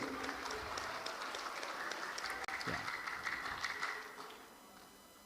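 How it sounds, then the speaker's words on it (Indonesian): An audience at a Fahmil Qur'an quiz final at a national MTQ competition applauds the judges panel, a broad burst of many hands clapping that fades toward the end, with a brief word from a speaker. "Ya, tepuk tangan untuk Dewan Hakim."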